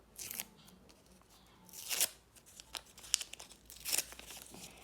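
A paper surprise packet is cut and torn open with quiet crinkling and rustling, broken by a few sharper tearing bursts, with no talking.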